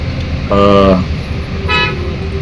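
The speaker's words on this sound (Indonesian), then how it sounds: "ini mobil lagi antri karena macet ya" Cars queuing in a traffic jam on a route toward the Masjidil Haram: two loud car-horn toots, one longer and one shorter, sound over a rumbling background of idling traffic.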